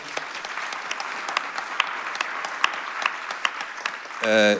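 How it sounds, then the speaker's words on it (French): Steady applause from an audience, dense and even for several seconds, ending with a brief burst of a voice at the close. "Vous pouvez l'applaudir."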